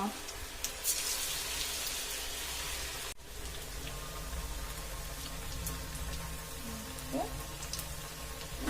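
Bajji fritters frying in hot oil give a steady, dense crackling hiss that fills the whole stretch, with a brief dip partway through before the sizzle carries on evenly.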